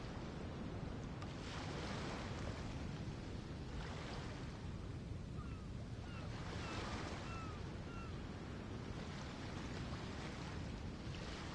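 A pirate ship under sail on the open ocean, with steady surf and wave wash rolling continuously alongside a constant rush of wind; no voices.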